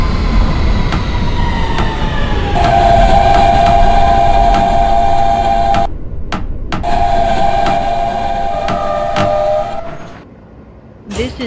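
A simulated R160B Siemens subway train on the Q line rolls along with loud, continuous rail rumble and rising and falling motor whine, interrupted by a brief break before quieting near the end.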